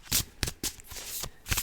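Tarot cards being shuffled by hand in close, crisp bursts: several quick riffling rustles separated by brief pauses, with no voice over them.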